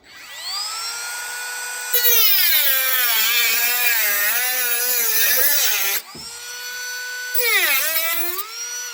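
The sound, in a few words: rotary tool cutting metal tab on jalousie window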